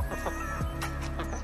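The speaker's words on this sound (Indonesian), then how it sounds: "Mau ngasih makan ayam." A flock of backyard hens being fed in Australia cluck near the listener, a quick series of short overlapping clucks and brief calls that keeps a lively, steady pace.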